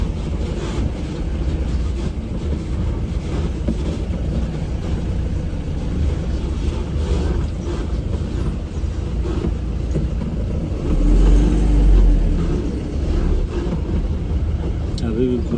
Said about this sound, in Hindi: अभी भी पूरा जाम ही जाम है